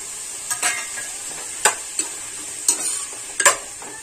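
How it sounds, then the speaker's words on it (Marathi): Pav bhaji vegetables with tomatoes cook in a pan under a steady frying hiss, broken by several sharp scrapes and clinks of a spatula against the pan, close and fairly loud, with no talking. "चांगलं शिजवून घेऊया आता उभेवर, सगळंच टाकते, टोमॅटो वगैरे टाकते।"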